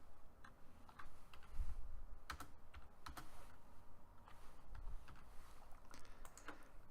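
A computer keyboard is typed on in irregular, faint clicks and short bursts of keystrokes against a quiet room background, with no talking.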